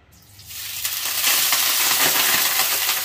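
Paneer dropped into hot mustard oil sets off a sudden loud sizzle that swells within half a second into a steady, crackling hiss and keeps going strongly, close up and with no voices.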